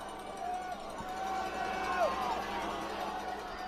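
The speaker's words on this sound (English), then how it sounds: "Volume is increasing from the fans as they're cheering it on" Spectators along the shore cheer a rowing crew at the NCAA Division I championship, a faint distant crowd roar swelling slightly, with a commentator talking over it.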